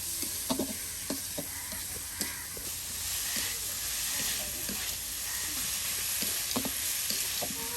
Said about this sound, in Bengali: একদম চেপার সাথে সবকিছু সুন্দর করে ভেজে নেওয়া হচ্ছে।